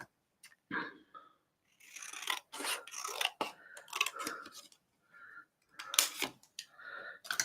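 A sheet of paper is trimmed down by hand for a z-fold card, giving a series of close, crisp cutting and rustling sounds in short bursts separated by brief pauses.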